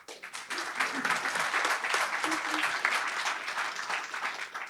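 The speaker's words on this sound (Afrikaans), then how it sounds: "Ons verwelkom al 4 lekker hande klap vir hulle ook." An audience gives sustained applause to welcome guests at an Afrikaans campus event, a steady wash of clapping from start to finish with some murmuring underneath.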